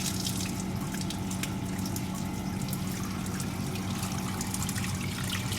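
Water rushing steadily from a nearly fully opened valve into a hydraulic bench during an orifice meter test, a constant, dense gushing and splashing with no pauses, moderately loud and close.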